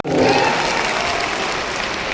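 Loud, dense applause from a large crowd at a political rally in Bihar, India, steady throughout with no voices standing out.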